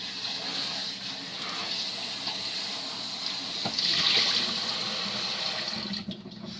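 Water running steadily from a kitchen tap into a pot being rinsed, a constant hiss and splash at moderate level that briefly swells in the middle before easing off near the end.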